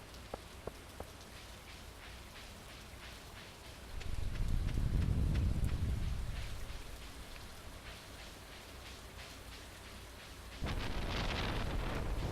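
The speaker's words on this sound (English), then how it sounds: "You can hear the thunder and lightning." Steady rain patters throughout a stormy scene in Stardew Valley, while a deep roll of thunder swells and fades in the middle, followed later by a heavier burst of rain noise.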